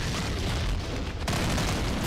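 A grenade bursts in Brutal Half-Life, a loud, dense boom that fills the whole span, with a sharp second blast hitting about midway and rumbling on to the end.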